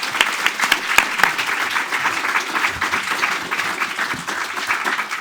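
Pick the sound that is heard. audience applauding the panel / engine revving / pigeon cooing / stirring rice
audience applauding the panel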